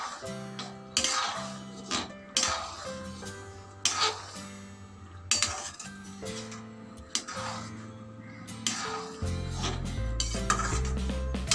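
A spoon scrapes and clinks against a pot as semolina is stirred for rava khichdi, in repeated rhythmic strokes with pauses, close up and with no talk.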